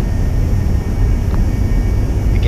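A simulated Cessna S550 Citation II jet on approach in X-Plane 11 with final flaps set to 35 degrees, giving a loud, steady low cockpit drone of engine and airflow, continuous with no voices.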